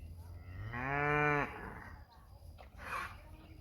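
A cow on a Texas farm lets out one loud, drawn-out moo close by, rising and holding for under a second before breaking off, followed by quieter rustling and a soft breathy snort.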